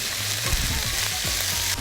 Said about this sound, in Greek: θα ρίξουμε το κρέας σε μια κατσαρόλα ή στο τηγάνι